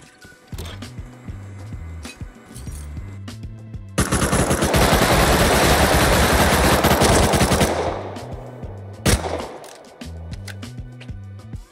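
Sustained automatic gunfire in console Rust, a dense roughly four-second burst loud against a repetitive game background beat, with a few isolated shots before and after.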